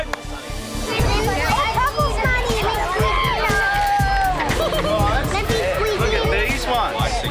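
A crowd of excited children rushes a cupcake-decorating station at a kids' party cook-off, filling the space with loud, continuous chatter, shouts and running footsteps right up close.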